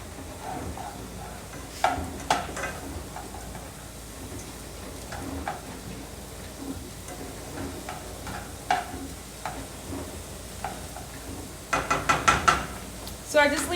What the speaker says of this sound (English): And then I just stir it around